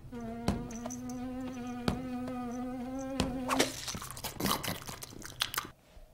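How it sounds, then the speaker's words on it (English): A cartoon fly in Scooby-Doo drones with a steady, close buzz for a few seconds, then cuts off and gives way to loud crunching, munching sounds. "Did Scooby just eat a fly like a frog?"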